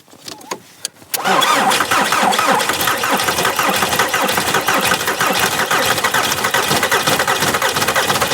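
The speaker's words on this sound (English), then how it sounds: "someone has to turn the ignition key" A car engine turns over on the ignition key and catches after a few short sputters, then settles into a loud, steady running rumble close by in a cold winter setting.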